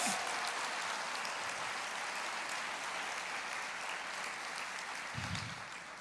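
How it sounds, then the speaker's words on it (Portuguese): A church congregation claps together during a sermon, a broad, fairly distant wash of applause that sounds almost like rain, steady throughout with a brief low thump near the end. "Glorifica ao Senhor, aplauda Ele."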